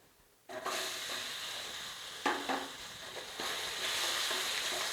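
Guava pieces dropped into hot oil and sautéing in a pan for guava chutney, a sudden sizzle that settles into a steady frying hiss with a few stirring scrapes, close and moderately loud, no talk.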